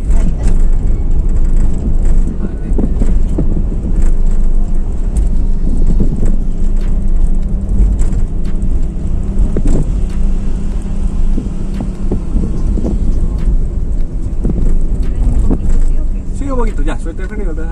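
An automatic car accelerates during a first driving lesson, a loud, steady engine and road rumble filling the cabin throughout, with voices talking over it.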